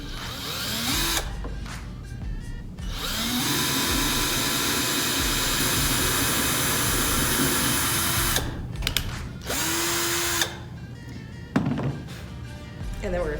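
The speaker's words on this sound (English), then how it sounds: "we are going to drill right where our mark is" A power drill drives a small bit through a plastic toy being made into a lamp. It gives a sustained close whine, then short, stuttering bursts and thunks as it bites, while a person talks between runs.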